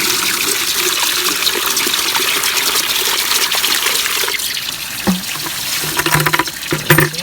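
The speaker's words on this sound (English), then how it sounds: "So Jagger also needs some fresh water, so we're going to give him this" Water runs and splashes steadily into a container, with a few clunks and light knocks near the end.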